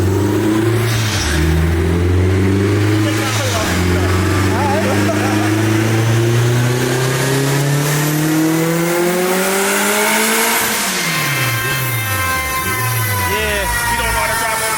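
A turbocharged K24-powered MR2 of about 650 hp roaring on a dyno, its engine climbing steadily in pitch for around ten seconds, then dropping and blipping through shifts, loud and close throughout.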